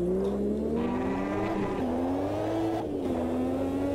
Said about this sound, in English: That was less than half throttle in second gear, and that was wheel spin.